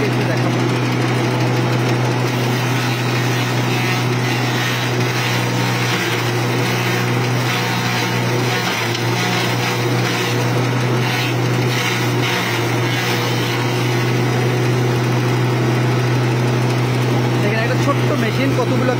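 A mini combine silage cutter runs continuously while chopping whole corn plants for silage, a loud steady engine drone with a constant low hum and rattling mechanical texture throughout.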